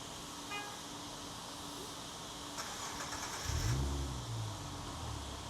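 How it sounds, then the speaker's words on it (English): A Nissan 370Z Nismo with a newly fitted heavy-duty clutch rolls into a car wash bay, its engine rising to a brief, close low rumble midway through amid steady background hiss. "He's gonna pull my car into the wash bay for me."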